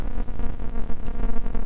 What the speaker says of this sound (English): we get this glitchy ambient sound